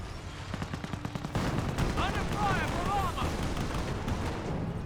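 A British 25-pounder artillery barrage in the Company of Heroes video game: a quick run of gunfire cracks gives way to dense, rumbling blasts and whistling shells, with a voice heard faintly at the start.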